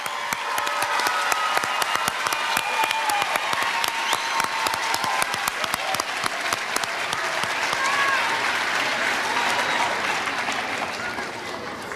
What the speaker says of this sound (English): Let's give all of our NPS youth ambassadors a round of applause.